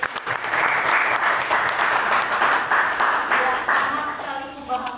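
An audience gives a speaker a round of applause at a talk on religious moderation policy in Indonesia: dense, steady clapping fills the room for several seconds, with a voice faintly underneath.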